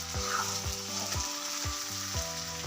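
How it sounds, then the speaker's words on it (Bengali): Chowmein noodles fry gently on low heat, a soft continuous sizzle with rhythmic scraping strokes of a utensil repeating about every half second, close and unaccompanied by speech. "লো হিটে আমাদের কিছুক্ষণ নুডলসটাকে ভাজতে হবে"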